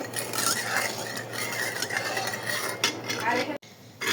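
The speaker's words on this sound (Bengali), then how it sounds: "দিয়ে এখন একটু সব কিছু মিলাই নেব" A spoon stirs agar agar powder into a coffee milk jelly mixture, scraping and clinking steadily against the pot or bowl close by. A short quiet gap falls near the end before the stirring resumes.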